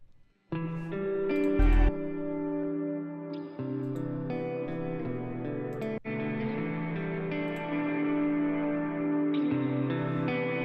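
A clean, dry electric guitar plays sustained chords and notes, plain and unprocessed, heard alone.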